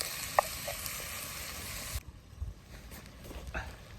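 Bacon and onions for a Guinness lamb stew fry in a pot with a steady close sizzle, then quieter hissing and scraping as the pieces are stirred and separated.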